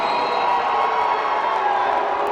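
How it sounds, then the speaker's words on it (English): A volleyball crowd at a college tournament championship match lets out a loud, sustained roar of displeasure after an out call, voices blending into a dense wall of shouting and jeers. "Crowd not happy with that"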